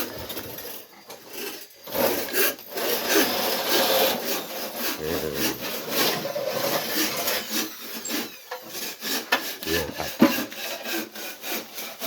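Bamboo poles being scraped smooth at an outdoor bamboo workshop, a continuous rough rasping and scraping in close, steady strokes with brief pauses, with a short spoken remark.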